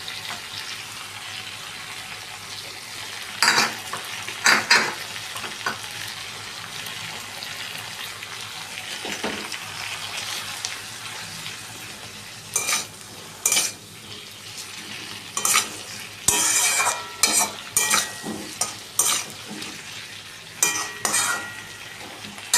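Ginger paste and cooked-down tomato frying in a pan for fish kalia, stirred with a spoon that scrapes in clustered bursts over a steady soft sizzle, close and without talk.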